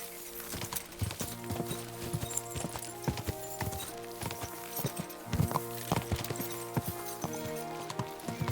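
Steady clip-clop of horse hooves at a walking pace in Kingdom Come: Deliverance II, close and fairly loud over a bed of game music, with a brief whinny-like accent partway through.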